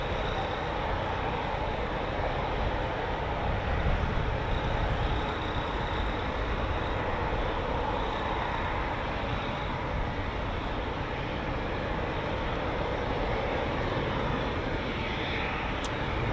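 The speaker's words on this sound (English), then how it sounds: "Next up, the Italian Typhoon" An Italian Eurofighter Typhoon jet flies over an airfield at an air show arrivals day, a steady, fairly distant broadband roar that holds evenly throughout with no talk over it.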